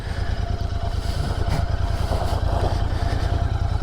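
A Royal Enfield GT650 motorcycle runs with a loud, steady parallel-twin engine throb, close by and unbroken, the rumble pulsing evenly throughout with no voices.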